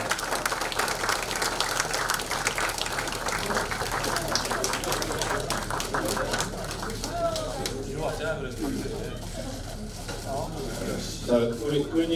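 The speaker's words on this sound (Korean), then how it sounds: "큰 박수로 맞이해 주시기 바라겠습니다" Applause from an audience at a Liberty Korea Party lawmakers' assembly, a sustained wash of clapping that lasts the whole stretch, with a voice over a microphone and scattered room noise mixed in.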